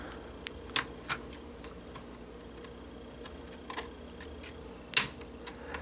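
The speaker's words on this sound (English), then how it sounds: "Once we hear it, snap it out." Plastic hinge cover clips on an ASUS GL552V laptop being pried and snapped loose, a scatter of small sharp clicks and ticks over a quiet background, one louder snap near the end.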